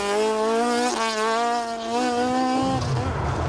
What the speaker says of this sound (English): The Toyota Starlet is being pushed to the limit by the Monaghan crew.